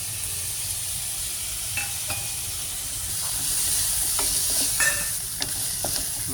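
Onions, green chilies and curry leaves fry in a pan for a prawn gravy, giving a steady hissing sizzle broken by light scraping and tapping from stirring, with no talking.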